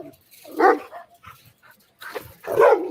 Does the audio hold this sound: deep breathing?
no